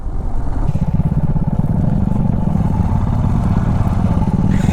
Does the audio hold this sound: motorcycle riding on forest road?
yes